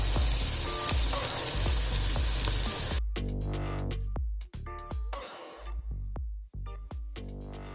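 Spiced tadka of meat masala, Kitchen King and deggi mirch for Punjabi maah rajma dal sizzles loudly and steadily in hot oil, a dense crackling frying hiss, later broken by sharper bursts and brief pauses as the pan is handled.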